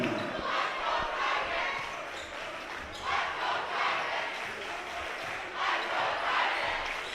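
A high school varsity basketball crowd cheering for Gunn in a gym, a sustained roar of many voices swelling in waves, with squeaks and bounces from the court mixed in.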